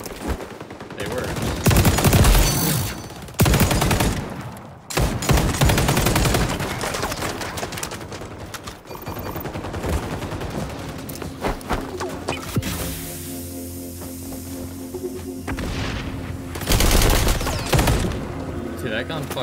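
Automatic gunfire in the shooter XDefiant during a capture-point fight, loud repeated bursts and sustained rattling volleys throughout, with brief gaps and a player's voice talking over the action.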